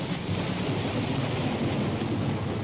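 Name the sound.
thunderstorm with rain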